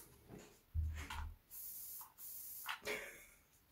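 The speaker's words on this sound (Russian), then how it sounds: "сухое распыление" An aerosol dry spray being sprayed in a few short, close hissing bursts of varying length, separated by brief pauses in a quiet room.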